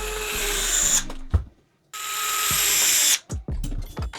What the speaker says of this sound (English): Put the screws back in on your diff cover.